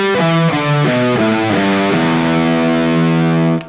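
A distorted electric guitar plays a quick descending pentatonic lick in a three-notes-per-string pattern, notes stepping down in clear groups before settling on a sustained low note, loud and alone.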